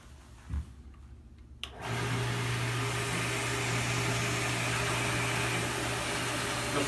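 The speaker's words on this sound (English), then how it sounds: "So let me start the test bench." A water line test bench starts up: a click, then a sudden steady loud whooshing, humming drone that continues evenly once running.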